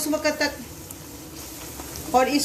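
Spiced masala with a couple of pinches of turmeric frying in hot oil for Mughalai egg curry, a steady soft sizzle with short bursts of nearby speech at the start and end.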